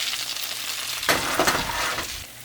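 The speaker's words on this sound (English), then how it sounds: "Our salmon is hot and sizzling, fresh out the oven." Oven-baked salmon with a thick soy sauce glaze sizzles loudly and steadily, fresh from the oven, with a brief clink of a pan partway through and no talking.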